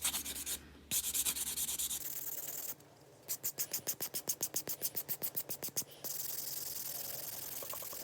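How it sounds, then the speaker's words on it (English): Gel-polished fingernail being buffed to a matte finish, soft close scratchy rubbing in short bursts, then a quick run of rapid rhythmic strokes before steadier buffing resumes. "any areas that you didn't file, just lightly buff through them so that the entire top is nice and evenly matte"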